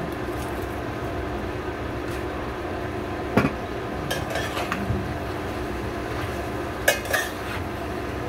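A spoon or utensil scrapes and clinks against a pot while chicken adobo cooks with bay leaves, chicken cubes and pepper, giving a few faint metallic knocks over a steady low hum.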